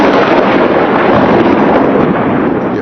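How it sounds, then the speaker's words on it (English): Loud, steady roar of heavy rain from a severe thunderstorm, with a deep rumbling undertone, constant throughout with no pauses. "At 6:30 it starts to rain, and soon a severe thunderstorm begins."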